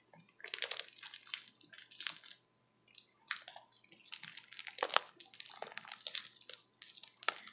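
Sticky, fluffy homemade slime being kneaded by hand, producing soft wet squelches and crackly squishes in close, quiet bursts with a short pause near the middle.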